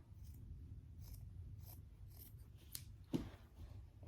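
Scissors snip through fur lining material for an Air Force 1 sneaker, a few soft, quiet cuts in a calm room ending with one sharper snip.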